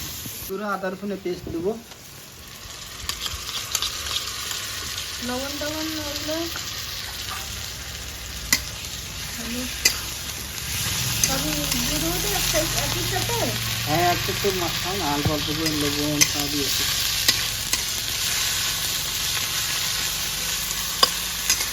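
Two medium onions frying in a kadai with whole cumin and dried red chillies, a steady sizzle running throughout with stirring scrapes, while someone talks over the cooking at intervals.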